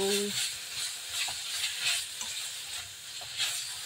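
Garlic and onion sauté in a pan for adobong sitaw, giving a continuous bright sizzle with soft, irregular stirring sounds and no talking.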